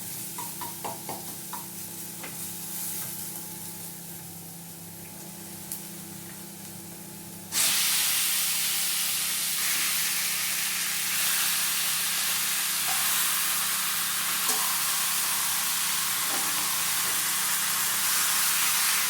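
Chicken pieces go into a hot pan for chicken ularthiyathu: a quiet simmer with light clinks gives way at once to a loud, bright, steady sizzle that carries on close and unbroken, with no voices.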